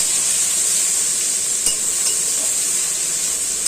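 Chopped onion sizzles steadily in hot mustard oil tempered with a dried red chilli and a little kalonji, a loud, continuous close-up frying hiss with one faint clink partway through.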